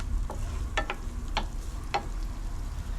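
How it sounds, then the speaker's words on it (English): Vegetables cooking in a pan give a steady low sizzle, with a few sharp scraping stirs of a utensil and no talking. "It's sizzling now, I'll tell you."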